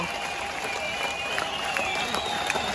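Crowd applause at a street protest demonstration in Belarus, a dense steady wash of many hands clapping from a distance, with a faint voice and a whistle-like tone over it.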